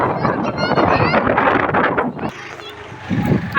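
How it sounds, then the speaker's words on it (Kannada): Heavy wind buffets the microphone outdoors near a park, a dense roaring gust that drops off partway through while people talk close by. "ಗಾಳಿ ಅಂದರೆ ಹೆವಿ ಗಾಳಿ ಇದೆ."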